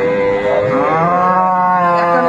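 Close and loud, a dairy cow lets out a sustained, wavering moo at the Aftabganj cattle market in Dinajpur, with market noise faintly behind.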